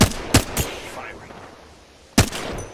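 Gunfire in Apex Legends on PS4: several sharp, loud shots, two close together near the start, a third shortly after, then a lull and another strong burst near the end. Game voice lines and effects sit faintly underneath.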